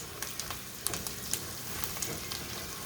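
Garlic frying in a pan for shrimp and pork fried rice gives a close, continuous sizzle, with sharp pops and crackles breaking through every half second or so.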